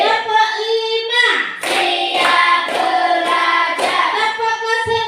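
Children in a classroom clapping game chant together while five crisp, evenly spaced group claps ring out close by, each burst rising above their sung voices.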